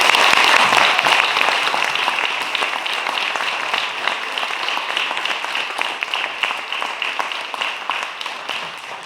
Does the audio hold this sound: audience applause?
yes